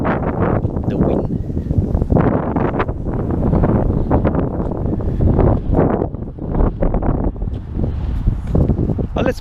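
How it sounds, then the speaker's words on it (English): Strong wind blowing outdoors, buffeting the microphone in loud, continuous gusty rumbles. "the wind."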